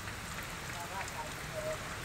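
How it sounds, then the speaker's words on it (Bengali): Heavy rain pouring down during a thunderstorm, a dense, even hiss of falling water that stays steady and fairly quiet throughout, with no distinct voices standing out. "অঝরধারায় বৃষ্টি হচ্ছে।"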